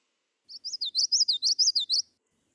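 A warbler sings a single clear, high phrase of about a dozen rapid, rhythmic chirped notes in a witchity-witchity-witch pattern, heard alone against silence.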